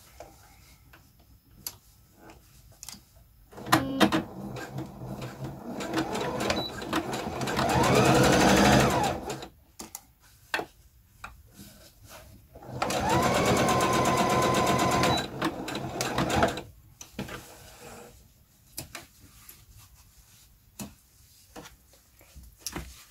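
A sewing machine stitches a straight seam on a skirt in two sustained whirring runs, with clicks and handling sounds around them and brief pauses before and after.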